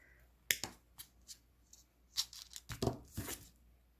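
Small wire cutters snip the end of a jewelry wire about 8 millimeters from a bicone and rondelle finger-swirl earring, a handful of sharp, faint clicks and crisp snips with soft handling rustle between them, close and quiet.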